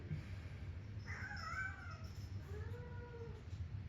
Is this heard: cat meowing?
yes